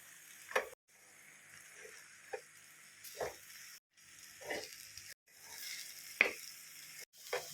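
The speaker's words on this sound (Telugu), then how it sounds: "గోంగూర అంతా ఇలా ఆయిల్లో మగ్గించుకోవాలండి" Gongura leaves sautéing in oil for a pickle, giving a soft, quiet sizzle that comes in short bursts with pauses between them, and brief scraping stir strokes punctuating it.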